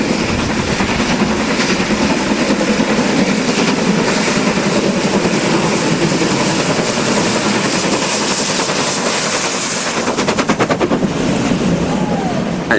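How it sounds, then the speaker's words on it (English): Two steam locomotives, Pocket Rocket and 45407, double-head a charter train past Appleby, their rapid exhaust beats and rolling clatter forming a loud, continuous, close roar throughout. "The frequent pairing of Ian Riley's Pocket Rocket and 45407 passes Appleby on the residential charter from Crewe to Hellifield in June 2001"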